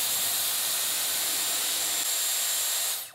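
Hairspray from an aerosol can sprays in one steady, close hiss onto styled hair, holding continuously for about three seconds before cutting off abruptly.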